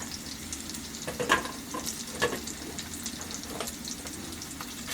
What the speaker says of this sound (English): the sausage is browning very well